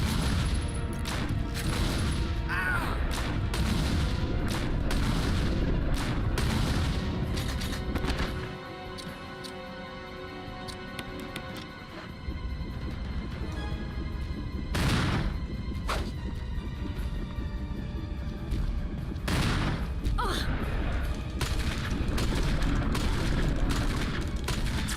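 Gunfire in the game Resident Evil 1 erupts in repeated loud bangs and crashing impacts across a busy, noisy scene, with dense bursts early and late and a brief quieter lull in the middle.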